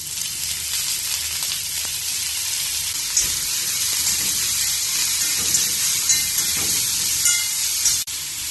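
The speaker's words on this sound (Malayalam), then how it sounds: "ഇനി പാൻ വീണ്ടും ചൂടാക്കി 1 ടീസ്പൂൺ കൂടെ എണ്ണ ഒഴിച്ച് ഒരു 8 ചെറിയ ഉള്ളി മുറിച്ചതും 5 അല്ലി വെളുത്തുള്ളി മുറിച്ചതും മുള്ളങ്കി മുറിച്ചതും ഇട്ട് വഴറ്റാം" Chopped shallots, garlic cloves and radish sauté in a spoonful of hot oil in a pan while making a chutney, giving a steady, close sizzle that continues throughout with no talking.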